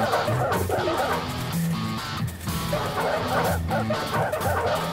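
Cartoon dogs yipping and barking in a football video game, rapid playful barks repeated over busy, loud game sound throughout.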